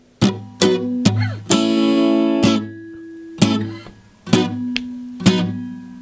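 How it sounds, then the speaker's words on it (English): Slow, steady reggae-style guitar strumming from a song, with short dead downstrokes and brighter live upstrokes, spaced evenly and played close with no talking. "get right back into that reggae style downstroke pattern"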